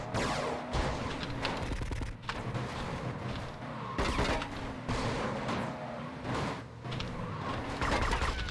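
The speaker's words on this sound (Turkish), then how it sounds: "Haydi, patladı araba." Explosions and chaotic gunfire-like blasts from a car blowing up in the video game GTA Vice City, dense and loud throughout with several sharp bursts layered over continuous rumbling game noise.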